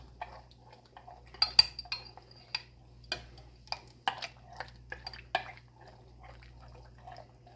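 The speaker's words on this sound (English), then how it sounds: "So I'm mixing it on in real good." Pot roast seasoning stirred into beef broth in a pot, heard as a series of light, irregular clinks and taps of a utensil against the pot in an otherwise quiet kitchen.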